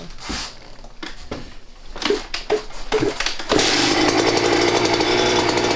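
Two-stroke dirt bike engine being kicked over on a street-legal build, a few sputtering attempts before it catches and settles into a loud, steady buzzing idle that runs to the end.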